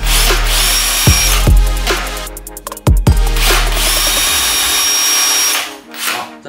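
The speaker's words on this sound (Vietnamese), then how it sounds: "lấy dấu xong thì chúng ta có thể khoan rất là nhanh" Power drill boring a hole into a spot marked with a Rennsteig automatic center punch, loud whining bursts that rise and stop several times, close up with no talking.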